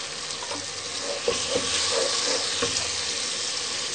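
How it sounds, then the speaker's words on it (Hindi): Spices frying in a pan with softened tomatoes for aloo matar sabji, a steady close sizzle with a spatula scraping and stirring through the mixture in several soft knocks, no voices. "अब हम मसाले अच्छे से भूनेंगे।"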